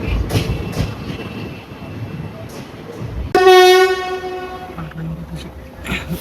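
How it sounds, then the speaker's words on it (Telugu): A loud, sustained train horn blasts at Krishna Canal Junction on the Vijayawada to Guntur line, rising sharply over low rumbling rail noise before fading. "మన ట్రైన్ విజయవాడ టు గుంటూరు వెళ్ళే ట్రైన్ అయితే రీచ్ అయ్యింది"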